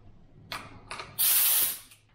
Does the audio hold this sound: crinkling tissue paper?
no